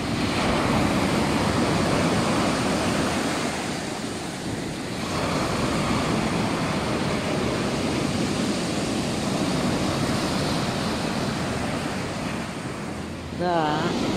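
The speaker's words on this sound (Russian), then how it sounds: "По-моему, волны больше стали." Black Sea waves crash and roll onto the shore at a Sochi beach in winter in a continuous loud roar, with strong wind buffeting the microphone throughout.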